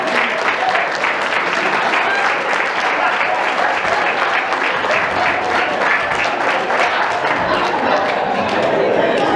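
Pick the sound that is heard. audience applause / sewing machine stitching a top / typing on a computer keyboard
audience applause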